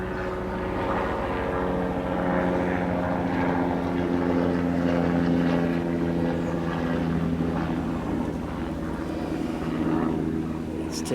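Droning rotor and engine noise from news helicopters passing overhead at a June beehive inspection, a steady loud hum filling the whole stretch with no pause.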